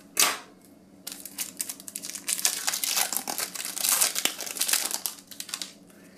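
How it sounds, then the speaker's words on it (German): Teenage Mutant Ninja Turtles booster packs are torn open by hand, with a sharp rip at the start followed by several seconds of loud, close crinkling and rustling of the foil wrappers. "Heute öffnen wieder ein paar Turtles-Tüten oder Booster,"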